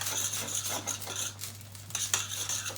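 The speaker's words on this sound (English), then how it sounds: "Just stir that in." Rhythmic scraping strokes of a spoon through softened vegetables with a little mustard in a pot for beef goulash, quiet and close, with a faint sizzle and a low steady hum underneath.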